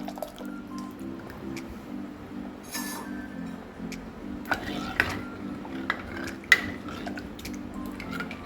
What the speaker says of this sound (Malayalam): അപ്പോൾ ഞാൻ മോര ഒഴിച്ചു കൊടുക്കാം